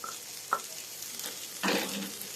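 Flour fries in a pan for a white sauce for pasta with chicken strips, a soft steady sizzle with a few scraping stirs of a spoon, one louder stroke near the end.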